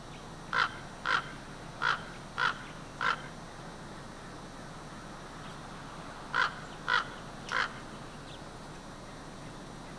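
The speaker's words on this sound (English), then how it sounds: "back to taunting the crows." Crows and ravens cawing outdoors, five harsh calls in quick succession, a pause, then three more, moderately near over a faint steady background hum.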